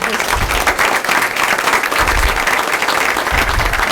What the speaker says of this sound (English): So just a little bit of round of applause for that.